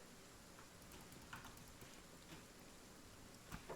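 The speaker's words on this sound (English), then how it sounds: "Okay, it's burning rain." Burning rain patters faintly and steadily in the video game Kenshi, a soft hiss with scattered drop ticks across a coastal scene.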